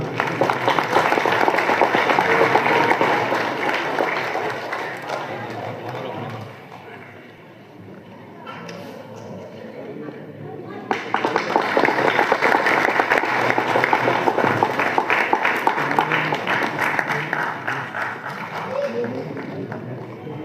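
Loud, sustained applause from an audience at a student prize distribution ceremony, dipping briefly in the middle before swelling again, with a voice heard over the clapping.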